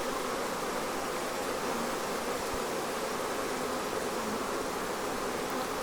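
A newly caught honeybee swarm hums steadily while being re-hived, walking up fabric into a hive entrance; a dense, continuous buzz of many bees close by, with no talk.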